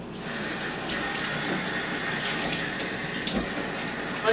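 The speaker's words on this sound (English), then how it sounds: "we're ready for the rinse off" Running water from a tap pours steadily to rinse a cat during its bath, a continuous close splashing gush with no talk over it.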